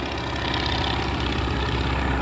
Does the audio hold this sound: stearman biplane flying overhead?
yes